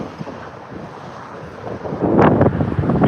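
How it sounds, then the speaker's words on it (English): Wind buffeting the microphone in low rumbling gusts while sturgeon fishing from a boat, growing louder and rougher toward the end, with faint water and boat sounds beneath. "it is definitely a bit windy today"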